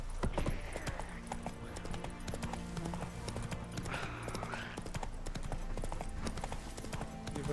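A horse's hooves clip-clop steadily in The Witcher 3 over a dense bed of game ambience and music, with a brief whinny-like sound partway through.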